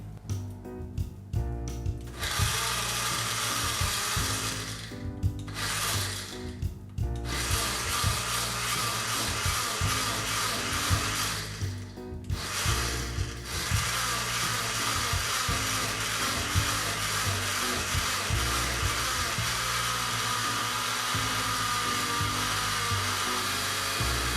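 Blender pulsing a chicken marinade with lime until smooth, a loud continuous whirring motor in several bursts separated by brief pauses, with no talking.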